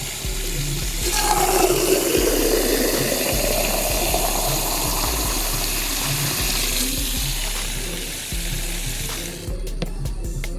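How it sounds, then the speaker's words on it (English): Water drawn from the side of a house and run onto watermelon plants, a loud continuous rushing gush that holds steady for about nine seconds before stopping, followed by a few faint clicks and knocks. "let me go water my watermelon and I'll be right back"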